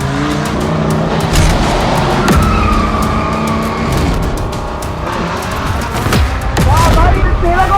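Race cars in a racing video game roar and skid, their engine drones and tire squeals forming a loud, continuous wash with sharp bursts, while voices talk over the action.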